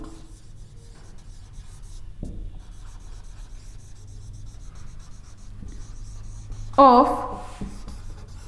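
A pen scratches across paper in soft, continuous strokes during a biology lesson on plant vacuoles, with a teacher talking over it and one brief louder scrape near the end.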